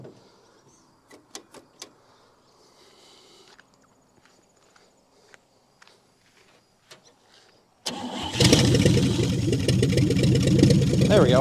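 A 1959 Chevy Biscayne V8 cranks and catches after long sitting, then settles into a loud, steady idle. Faint clicks and shuffling come first, and the engine roars to life abruptly partway through.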